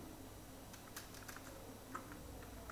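Fingers tap on a computer keyboard, a faint run of light, irregular clicks over a quiet background hiss.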